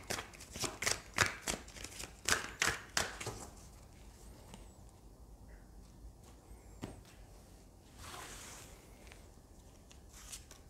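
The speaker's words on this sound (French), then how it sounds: "je prends 3 cartes du Rider-Waite." Rider-Waite tarot cards being shuffled and drawn by hand: a quick run of about a dozen crisp card flicks and riffles, close and fairly soft, then quieter handling with occasional brushes of cards.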